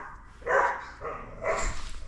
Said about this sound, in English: Post it down in the comments if you guys had a dog next door that constantly did this.